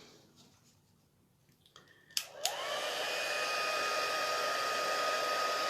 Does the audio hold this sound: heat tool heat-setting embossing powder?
yes